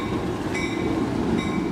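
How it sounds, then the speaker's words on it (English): An Amtrak Pacific Surfliner from San Diego pulling into the old Santa Fe station in Fullerton, California: a heavy rolling rumble with two clear bell clangs ringing over it, close by. "An Amtrak Pacific Surfliner from San Diego, its bell clanging, squeals to a stop."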